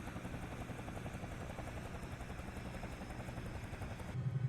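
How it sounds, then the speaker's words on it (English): A CowanSim Bell 222B helicopter in Microsoft Flight Simulator hums and throbs steadily with rotor and engine noise, fairly quiet and uninterrupted, with a low rumble that swells near the end. "the CowanSim 222 has very nice sounds"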